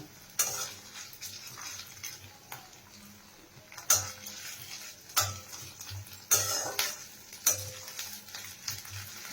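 Cumin and ginger paste frying in a pan, a close, steady sizzle broken by several sharp spoon scrapes and stirring strokes at irregular intervals.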